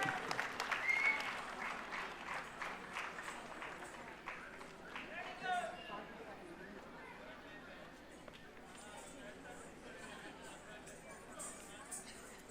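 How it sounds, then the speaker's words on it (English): An audience applauds at a 50th institute day celebration, greeting a solo Kuchipudi dance, with steady clapping that peaks early, then fades gradually. Scattered chatter and a voice carry through it. "Give him a big round of applause."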